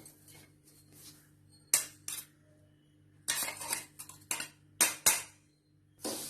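A spoon scrapes and clinks against a pan while roasted rava is stirred with ground sugar for rava laddu. Irregular bursts of metallic scraping come between quiet gaps, close by and with no talk.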